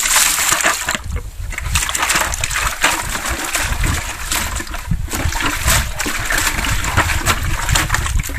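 Drinking water being scooped from a mountain well, with continuous splashing, sloshing and trickling close up, busy and fairly loud throughout.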